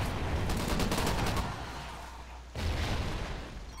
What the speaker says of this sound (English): They got a mounted gun somewhere?